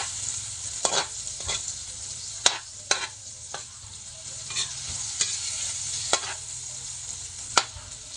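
A utensil scrapes and taps repeatedly through sautéing vegetables in a frying pan, sharp irregular strokes over a soft, steady sizzle, close up with no voices.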